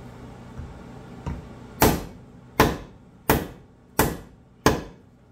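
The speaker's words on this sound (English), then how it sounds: "Use a heavy hammer, hopefully it'll be good enough for pressure where it won't move." Five heavy, evenly spaced hammer blows on a Plumb rafting pattern axe ring out close by, each a sharp metallic strike with a short decay, after a couple of lighter taps.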